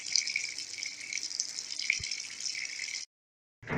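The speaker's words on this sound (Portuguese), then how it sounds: "A lavadora começou a encher." A Brastemp Clean 5 kg top-loading washing machine fills with water, a steady hissing gush running for about three seconds before cutting off abruptly, then resuming briefly.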